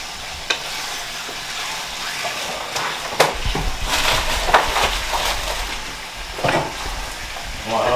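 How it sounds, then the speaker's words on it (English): Food being stirred and simmering in a pan in a home kitchen, a steady soft sizzle with scattered scraping and clattering bursts from the stirring, fairly close, with no talking. "So just going to move that around, let it simmer off and cook a bit, so it's not all clumped up."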